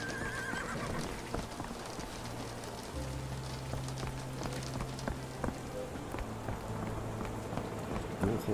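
Steady rain patters in the video game Sherlock Holmes The Awakened under horse hoofbeats clip-clopping along and a neigh near the start, a constant wet wash filling the whole stretch.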